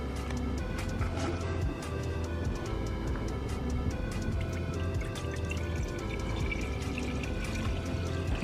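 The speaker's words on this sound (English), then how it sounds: "Now, we're just gonna pour in the coolant." Coolant being poured into the engine of a Mercedes C43 AMG during a thermostat replacement and coolant flush, a steady continuous liquid pour with dripping, constant and fairly loud throughout.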